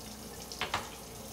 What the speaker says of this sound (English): We're gonna rinse that out of the Alco color.